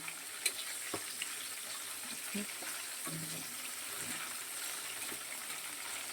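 Katla fish frying lightly in oil, a faint steady sizzle with a few soft pops and taps from the pan, no talking.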